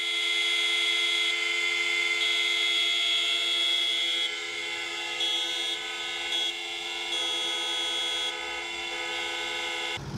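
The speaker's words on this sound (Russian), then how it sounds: "над столицей разнесся звук автомобильных гудков в память о тех, чья жизнь оборвалась на горном склоне Латы" Many car horns sound together across a city in memory of victims of a mountain-slope disaster, a sustained chord of overlapping steady tones blaring for about ten seconds with slight shifts as some drop out.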